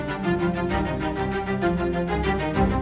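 Orchestral strings MIDI mockup playing back, sustained layered tones with a gently pulsing rhythm, steady and moderately quiet with no talking.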